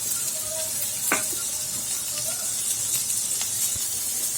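Shallots and garlic sauté in a pan for an anchovy fish curry, giving a steady close sizzling hiss broken by a few sharp clicks and scrapes of stirring.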